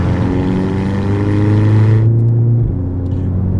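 A 2011 VW Golf GTI MK6 exhaust drones as the car accelerates around 3,500 RPM, a loud, steady engine tone with rising harmonics that cuts off abruptly near the end.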